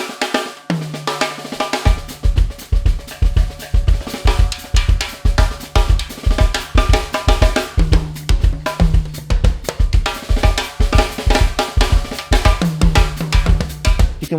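A drum kit is played with the hands in mixed accent patterns, giving a busy, continuous run of sharp, bright hits with low drum thumps beneath, close and loud with no voices.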